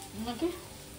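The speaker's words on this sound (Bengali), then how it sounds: "চলো কচুটাকে ভেজে নিচ্ছি এরকম করে লম্বা লম্বা করে" Long strips of taro sizzle softly in hot oil, a faint, brief frying hiss with a couple of light stirring touches.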